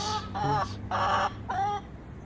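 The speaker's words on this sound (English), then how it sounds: "chickens do make noise." Several hens cluck and squawk nearby in short bursts, a few separate calls with brief pauses between them.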